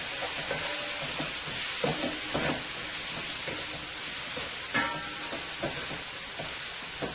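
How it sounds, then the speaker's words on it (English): Sauce for Guyanese-style fish sizzles steadily in a pan, a continuous close frying hiss with occasional stirring scrapes and pops, no voices. "Gonna let it fry for about 2 minutes"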